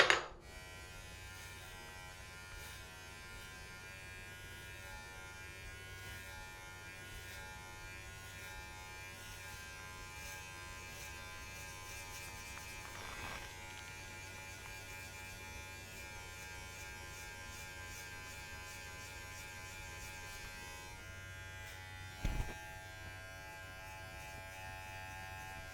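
Electric hair clippers with a one guard, lever open, buzz steadily during a self-administered buzz cut taper fade, a constant close hum with a few brief louder bursts as the blades meet hair.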